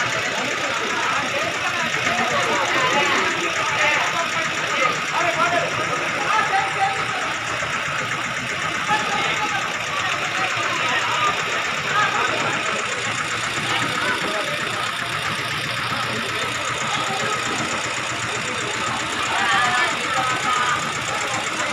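Motorboat engine on flood water outside a house: a steady, unbroken mid-pitched drone with rough, rumbling texture that holds at a constant level throughout and mixes with broad water and ambient noise.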